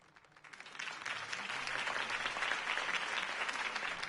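A crowd bursts into applause after a campaign speech in the Batman Telltale video game, starting with scattered claps and swelling into sustained, moderately distant clapping.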